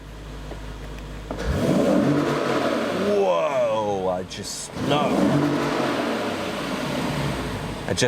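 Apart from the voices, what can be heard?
Lexus GS F car engine revving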